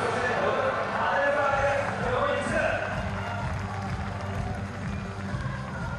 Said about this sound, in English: the crowd is going off right here. We can barely hear ourselves talk up in the booth